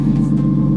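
A BMW car engine runs loud and close in a driveway, a deep steady rumble with a low droning hum and no pauses, heard alone without talk.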